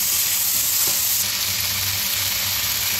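Potato and cauliflower pieces sizzle steadily in hot oil for a vegetable biryani, with a continuous bright frying hiss and soft low scrapes of stirring throughout, close and fairly loud, no voices.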